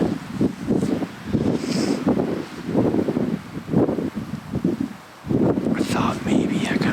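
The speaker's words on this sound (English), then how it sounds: "it'd be nice if the wind calmed down just a little bit" Gusty wind blows outdoors at night, buffeting the microphone in uneven, rushing surges with brief lulls between gusts.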